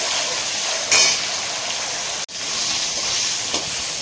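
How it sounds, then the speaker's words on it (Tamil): Small shallots sauté in a pan for a country chicken biryani, giving a steady, close hiss of frying with one brief sharper sizzle and no talking. "சின்ன வெங்காயம் வந்து பார்த்தீங்கன்னா நல்லா வதங்கட்டும்"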